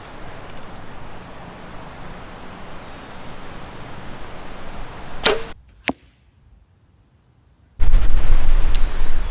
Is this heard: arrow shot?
yes